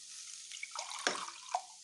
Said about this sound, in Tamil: இப்போ நம்ம தேவையான அளவு தண்ணி ஊற்றிட்டு